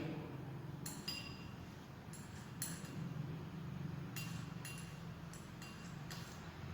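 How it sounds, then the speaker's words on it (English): A glass rod clinks several times, sharp and light, against glassware holding a Mohr's salt (double salt) solution during crystallization, over a steady low hum with no talking. "This can be checked by dipping the glass rod in a solution"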